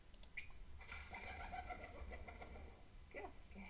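An owl call plays from a recording as a few soft, cooing hoots over a faint hiss, with no talking.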